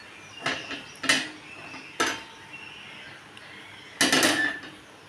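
Frying pan set on a gas stove with oil added for an egg and potato curry, heard as a few separate metallic clanks and scrapes of pan and utensils, fairly close, with quiet gaps between them and no talking.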